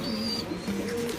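Racing pigeons in a home loft give soft, low, drawn-out coos that overlap at close range, with fainter higher chirps behind them and no talking.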